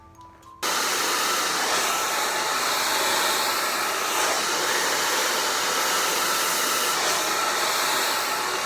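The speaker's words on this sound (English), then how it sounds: "get a mid-size round brush and your blow dryer" A blow dryer switches on and runs steadily as hair is dried down and forward with a mid-size round brush, a loud continuous whooshing roar with slight shifts as the airflow moves, no talking.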